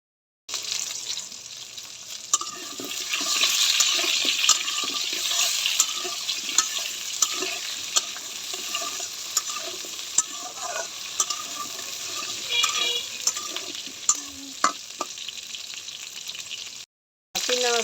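Potatoes and eggplant fry in a pan for a vegetable curry, a steady bright sizzle running throughout with scattered scraping clicks as the pieces are stirred, fairly close and without talk.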